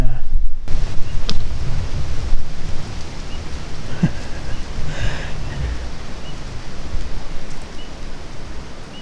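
Wind gusting outdoors around a small tree stand during an archery hunt, a loud, steady broadband roar buffeting the microphone with low rumbling throughout.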